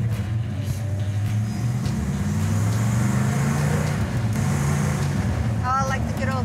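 Classic car engine running steadily while driving, a low droning hum with shifting tones held loud and constant throughout, with people talking over it and a brief chirping sound near the end.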